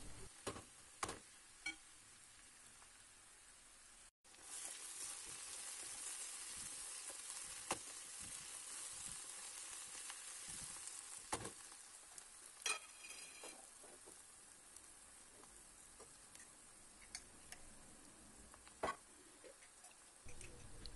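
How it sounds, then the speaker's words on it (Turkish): Eggplant pieces with onion, pepper and tomato fry in a pan and get stirred, giving a steady soft sizzle with occasional scraping clicks of the spoon, close by and alone. "Hemen patlıcanları da ilave ettim. Şöyle bir karıştırıyorum."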